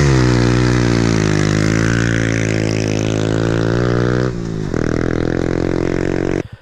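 Small motorbike on a road tyre revving hard on loose gravel, a loud, close, buzzing engine note holding high, then dipping and surging again before cutting off abruptly.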